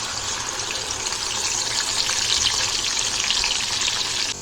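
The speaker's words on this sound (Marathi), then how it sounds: "मसाला आपण तेलात चांगला फ्राय करून घेऊया" Ground masala paste with curry leaves fries in oil in a kadhai for a pomfret gravy, a loud continuous sizzling hiss that cuts off abruptly at the end.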